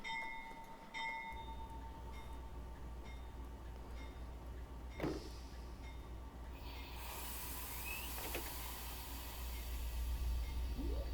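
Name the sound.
locomotive bell of CP AC4400CW in Train Simulator Classic, video game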